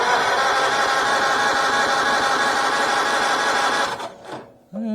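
A 1940 Farmall A tractor engine running out of gear with the choke on at about half throttle, a loud steady rapid chugging that cuts off near the end.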